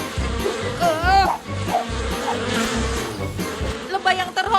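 Buzzing bees in a children's cartoon, an insect drone running beneath animated character voices that cry out and yelp over it.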